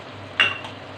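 A spoon stirs butter, green chilies, ginger and spices in a mutton karahi: one brief metallic scrape with a light clink over a steady low background hum.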